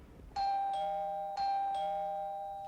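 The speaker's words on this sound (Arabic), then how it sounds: "ده انا يا دوب طولت الجرس بطرف صباعي" An apartment doorbell rings twice in quick succession, each press giving a bright two-tone electronic chime that rings out clearly in a quiet room.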